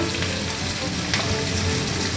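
Green chillies sizzle and fry in hot oil while being stirred for chilli paneer, a steady close crackling hiss running throughout with a few brief stir scrapes.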